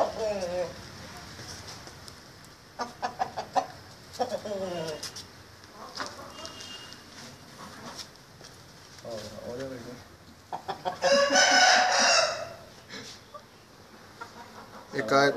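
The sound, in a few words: rooster clucking and crowing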